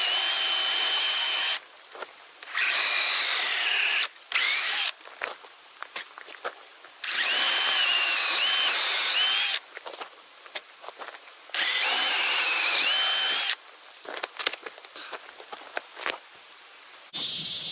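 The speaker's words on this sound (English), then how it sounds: "I'm gonna go ahead and drill out the holes with the marks that I made last night with the laser level." A power drill bores holes into wood while a kayak rack is built, sounding in several loud, close bursts of whining spin separated by quieter gaps with small handling clatter.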